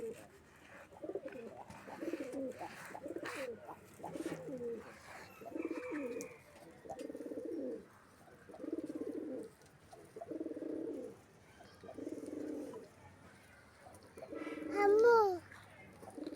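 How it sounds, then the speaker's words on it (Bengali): Pigeons coo close by in a steady series of soft, throaty phrases, roughly one every second or two, with brief pauses between them and a short higher chirp near the end. "কি কয় দেখো তো বাকবাকুম বাকবাকুম"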